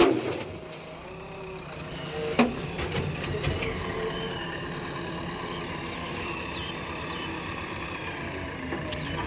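A JCB loader's diesel engine runs steadily at idle, a continuous low rumble with a few clanks and knocks, close by and alone without talk.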